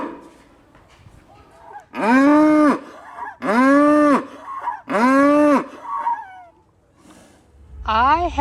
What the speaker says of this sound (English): this little panda cow loves to moo